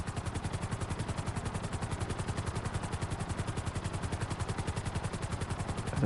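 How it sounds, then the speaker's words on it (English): A helicopter flies in the video game GTA Online, its rotor chopping in a fast, even rhythmic pulse that is loud and steady throughout, swelling slightly at the end. "I was forced to learn how to fly a dang on helicopter."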